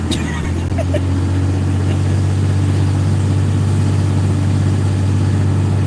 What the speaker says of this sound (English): I know it's loud, I know it's a lot of wind, but I'm in my truck.